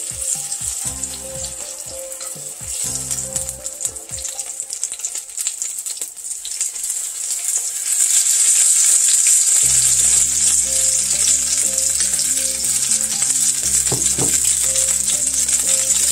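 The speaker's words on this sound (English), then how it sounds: "Okay, I'm going to add my corn mixture into the skillet with these little fritters." Corn fritters made from a frozen corn mixture sizzle and fry steadily in a skillet, with a loud continuous crackle that grows fuller after the batter goes in, plus some scraping and faint kitchen clatter.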